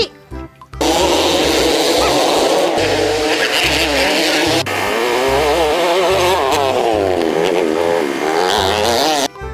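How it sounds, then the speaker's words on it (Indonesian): A toy ATV motor gives a loud, buzzy electronic engine effect with a warbling, revving pitch that rises and falls over about nine seconds, close and constant. "motor ATV."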